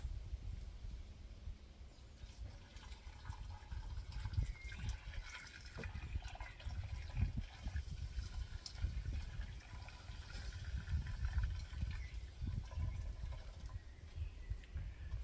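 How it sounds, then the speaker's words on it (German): Fresh water poured into a Dutch oven cooking pot holding shashlik at an outdoor grill, a faint continuous trickle and splash running for several seconds with no talk. "Jetzt kommt Frischwasser mit in den Topf."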